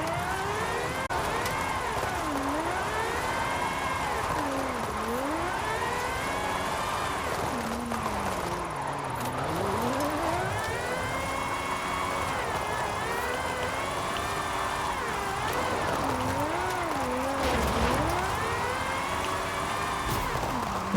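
A GMA T.50 mid-engine supercar drifting in Forza Horizon 5, its engine howling continuously with rapid sweeping revs rising and falling as it changes direction, loud and close, with a voice talking over it.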